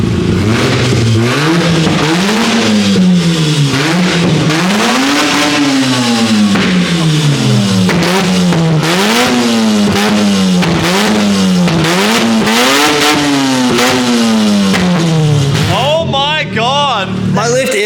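A Mazda 13B rotary engine running with only headers and no exhaust, very loud and close, revved repeatedly in rising and falling sweeps with a raw, raspy, buzzing tone, fading off briefly at the end.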